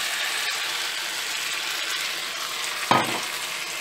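Beef stock poured onto fried beef pieces for Peruvian lomo saltado, a loud steady sizzle with a brief sharp clatter of the spoon or pan partway through, no voices.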